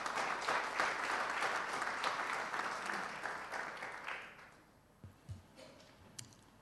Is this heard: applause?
yes